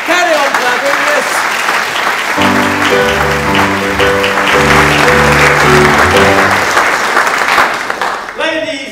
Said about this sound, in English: Carry on clapping, yes